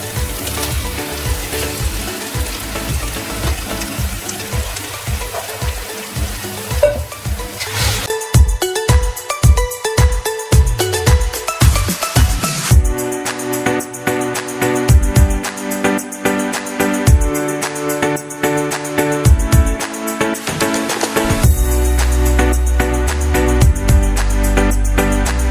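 Prawns frying in a pan for curry give a steady, close sizzle and hiss, with scraping stirs and clinks breaking through partway.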